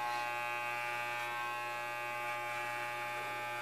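Electric clippers buzz steadily and close up as they shave hair around an ear during a home haircut, a continuous motorized hum with no talking.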